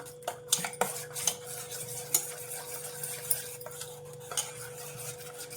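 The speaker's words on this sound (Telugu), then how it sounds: "ఇది కలిసిపోయినంత వరకు బాగా కలుపుకోవాలండి. ఉండలు లేకుండా నీట్గా కలుపుకోవాలి." A mixture being stirred smooth in a pot, a utensil clinking and scraping against the metal in irregular taps over a faint steady hum, fairly quiet and close with no talk.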